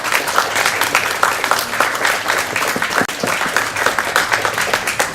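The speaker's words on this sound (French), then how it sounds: "On leur fait un applaudissement." Audience applause for a sponsor at a comic book launch event for Les Nombrils, a dense, steady wash of many hands clapping, fairly close and loud throughout with no talk over it.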